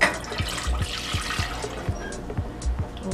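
About three cups of water poured from a big glass into a pan make a close, continuous splashing and gurgling for a few seconds.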